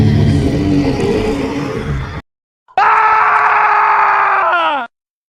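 Two long, strained screams from Stormtroopers, the first rough and breathy, the second higher and more tonal, separated by a short pause.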